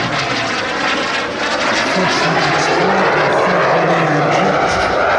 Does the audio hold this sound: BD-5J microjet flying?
yes